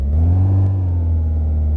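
A car engine in My Garage hums at a steady idle, a loud deep drone with a slight rise and fall in pitch and no talk.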